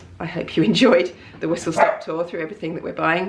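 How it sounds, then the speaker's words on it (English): A house dog barks at people walking past the front of the home, a few short yaps mixed under a person's close, continuous talk. "Excuse the dog, I think there's people walking past the front of the house."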